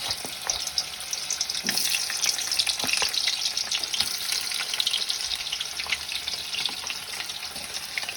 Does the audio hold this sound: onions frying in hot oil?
yes